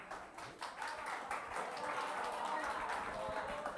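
Students in a class 10 maths lesson clap together, a faint, quick patter of applause running steadily throughout with some voices mixed in.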